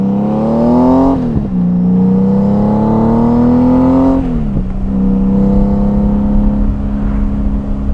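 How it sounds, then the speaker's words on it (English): A Honda Goldwing motorcycle fitted with Shark Road exhausts revs loudly and up close, its engine note climbing in two sustained pulls that each drop back sharply, then settling into a steady rumble with no talk over it. "how about those Shark Road exhausts? Absolutely phenomenal, man."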